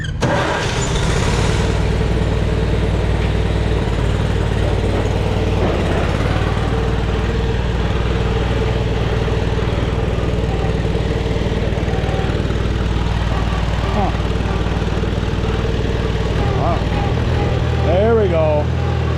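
Farmall Super A tractor engine cranking and catching, then running at a steady rough idle with a loud low chugging throughout, and someone talking briefly near the end.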